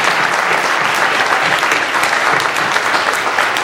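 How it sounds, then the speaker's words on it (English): Dense, steady audience applause at an MLK Day gathering, loud and close, a continuous wash of many hands clapping without pause. "that deserves an applause."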